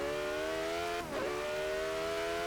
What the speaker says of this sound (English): Rev's really high for a V8.